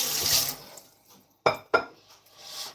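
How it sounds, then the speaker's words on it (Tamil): A water tap in a sink is opened, with a short hiss of running water followed by a quiet pause and then two sharp splashing or clinking bursts close by. "குழாயில் தண்ணி திறக்கிற சவுண்டு வந்து உங்களுக்கு வந்து நான் கேட்கும்னு நினைக்கிறேன்"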